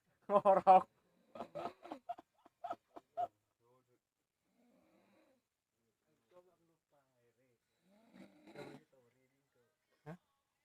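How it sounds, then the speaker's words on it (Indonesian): A worn-out person asleep and snoring: a loud, rasping, throaty snore at the start, then a run of short choppy snorts, fading to quieter scattered breaths and one last brief snort. "Ini lagi tidur sampai ngorok."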